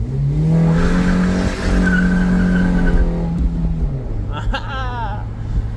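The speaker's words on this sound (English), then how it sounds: "If you want to hit that thing in a burnout, you got to bring it up some RPMs." Manual car doing a burnout: a loud, close engine rev holds steady for about three seconds, then drops as tires spin and squeal, with a voice talking over it.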